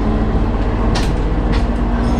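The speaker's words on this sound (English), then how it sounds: "It accelerates with this rhythmic bouncing, and it's because the joints, the same reason the clack on trains" Loud, steady rumble of a guided bus on the Luton Busway, with a low drone and faint rhythmic thumps as it bounces over track joints while accelerating.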